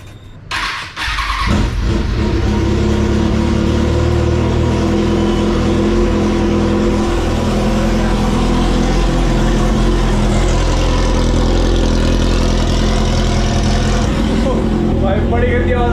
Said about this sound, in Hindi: इसके बिना चालू करके देखते हैं। और आवाज सही में बहुत ज्यादा भयंकर आ रही थी।